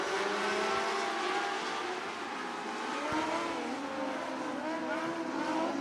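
Sprint cars of the Interstate Sprint Car Series roar around Coos Bay Speedway on a dirt track, multiple engines droning and shifting pitch together as the pack passes at a distance, loud and continuous.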